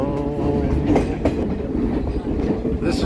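The Verde Canyon Railroad train in Clarkdale, Arizona rolls along with close, steady rumbling and clickety-clack from the wheels, with faint voices in the car.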